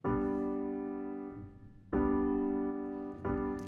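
A sustained piano chord, equalized, rings out and fades, then is struck again twice, bright and close, with no talking.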